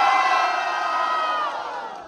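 At a street rap battle in São Paulo's east zone, a loud crowd cheers and shouts without a break. The roar is dense and close, fading a little toward the end.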